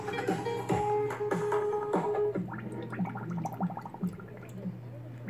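A JBL Charge 3 portable speaker is lowered into a bucket of water and plays music through it, giving a muffled tone with sloshing, bubbling splashes and drips, heard up close.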